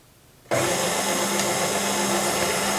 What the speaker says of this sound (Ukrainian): збиваємо на середній швидкості міксера до пухкої маси